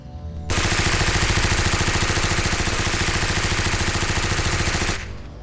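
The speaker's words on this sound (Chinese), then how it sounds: "不信的话，来个连发听听，就当是泡着，咱再过回年了" A long, loud burst of rapid automatic submachine gun fire, steady and continuous for about four seconds, with a clipped start and a short fading tail.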